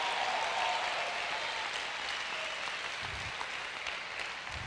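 Steady, dense applause from a church congregation, broad and continuous throughout with a few scattered whistles and shouts mixed in, moderately distant and filling the room.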